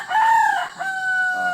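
A fighting rooster crows loudly and close by, giving one long call and then a second drawn-out crow, with no other sound around it.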